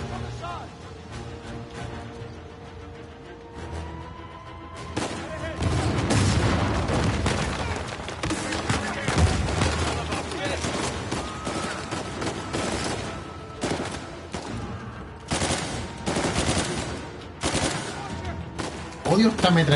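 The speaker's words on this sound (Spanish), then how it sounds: "Odio esta metralleta ligera" Light machine gun fire in Uncharted 4, a dense run of rapid bursts and booming shots over continuous combat noise, with a voice heard now and then.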